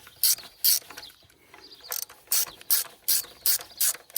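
Ratchet clicking in short bursts as bolts on a new high-pressure fuel pump for an Elantra N are tightened alternately, about eight quick rhythmic ratcheting runs, close and clear with no talk.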